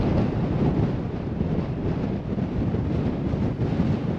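Steady wind roars across the microphone on a breezy coastal footpath, a continuous loud buffeting rush with no speech.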